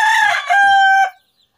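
Young chicks about ten days old give loud, close, drawn-out peeping calls, two sustained notes in quick succession before falling quiet, with no talking.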